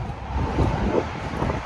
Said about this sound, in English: Yeah, it's so windy out here.